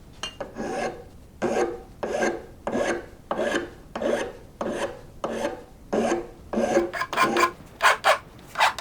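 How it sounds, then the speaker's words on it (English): Repeated rasping strokes of a hand file on a metal part of an antique laundry rack under restoration, about fourteen steady, close strokes in a regular rhythm that quicken toward the end. "Got a little filing to do here, make it look nice"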